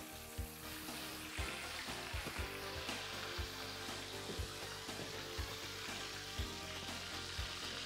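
Steady crackling sizzle of oysters and soft shell crab frying in hot oil, continuous and close, with occasional soft thumps and stirring knocks.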